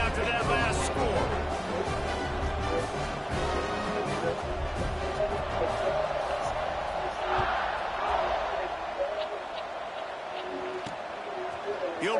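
A stadium crowd in a college football video game keeps up a steady, loud buzz of cheering and babble, with a commentator talking over it.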